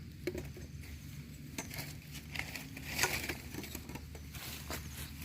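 Light rain falls in a forest in northeastern Thailand during mushroom gathering, a soft, scattered pattering of small taps and ticks that stays faint and steady throughout.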